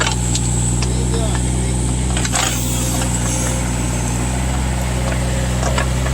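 A digging machine running while cutting ditches, a loud steady engine drone with a constant low rumble and occasional brief knocks, close by; a voice is faintly present.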